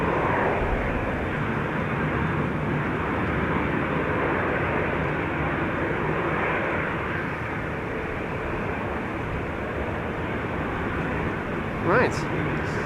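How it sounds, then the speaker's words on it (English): A fixed-wing airliner arrives on runway 27, the Buitenveldertbaan at Amsterdam Schiphol, its jet engines giving a loud, steady broadband roar that holds for the whole stretch, with a brief sharper sound near the end. "Will this airplane get loud?"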